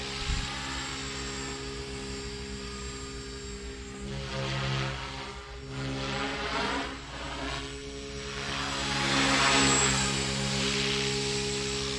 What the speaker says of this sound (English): Very crisp little helicopter